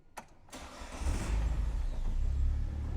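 The engine of a 2018 Oreion Reeper4 Apex with no catalytic converter cranks briefly, catches and settles into a steady, rumbling idle close by.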